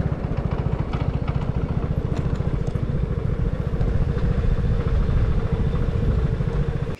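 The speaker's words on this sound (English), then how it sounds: "Got to ride the Vespa." A Vespa scooter being ridden, its small engine putting out a steady, loud, rapid putter that runs continuously and cuts off sharply at the end.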